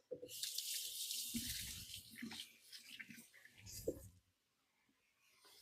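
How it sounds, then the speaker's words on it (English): Hands being rinsed under a running kitchen tap during stew preparation: a gushing, splashing stream of water for about four seconds with uneven surges as the hands move, then the flow stops. "Let me give my hands a quick rinse."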